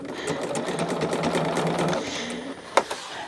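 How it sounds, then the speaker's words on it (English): A sewing machine runs in a quick, even stitching patter for about two seconds during a home sew-along, then stops with a small clunk; nearby and moderately quiet, with no talk over it. "I so enjoy sewing"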